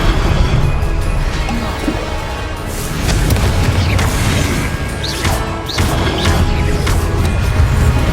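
Repeated Confringo fire-spell blasts in Hogwarts Legacy boom and crash in a loud, dense barrage, with bursts overlapping almost continuously across the stretch of combat.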